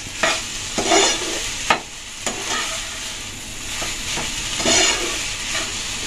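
A large spoon stirs vegetarian Mughlai paratha filling seasoned with chaat masala in a hot pan, giving a steady sizzle with several distinct scraping strokes spaced irregularly, close and fairly loud, with no voices.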